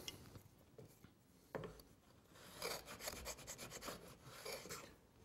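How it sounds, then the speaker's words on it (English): Router plane smoothing the bottom of a cut in wood, quiet scraping and rubbing strokes close by, a few separate scrapes followed by a denser burst of shaving sounds. "I'm just smoothing off the bottom of the cut."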